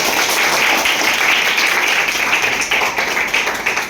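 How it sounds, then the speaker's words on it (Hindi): Schoolchildren in a class 6 science classroom clapping together for their classmates, a loud, continuous rattle of many small hands close by that tapers slightly toward the end. "तो एक बार सभी बच्चों के लिए ताली बजाइए"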